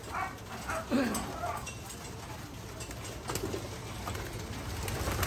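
Racing pigeons are let go from a loft at a one-loft race, their cooing and fluttering faint in a noisy outdoor scene, with dogs barking and people talking nearby.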